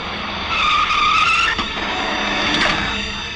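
A car brakes hard and skids to a stop, its tires squealing in a sharp, rising screech for a few seconds before fading out, heard alone without talk.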